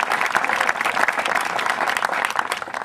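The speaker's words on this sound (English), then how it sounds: "Now, I think that warrants a round of applause." An audience at a high school graduation ceremony breaks into sustained applause, a dense wash of many hands clapping at once, steady and fairly loud throughout.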